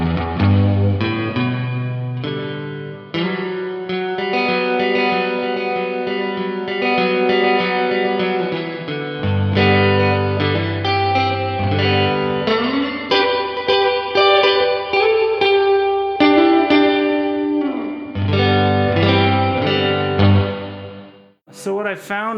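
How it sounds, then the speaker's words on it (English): Electric guitar played through an Electro-Harmonix Cathedral reverb pedal on a deep spring setting, sustained chords and notes ringing out with long, lush, amp-like reverb tails, alone without talk. "And here it is set up for kind of a deeper reverb, just so you get a sense of how ampy it kind of is."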